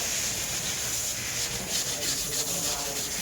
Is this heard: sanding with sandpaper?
yes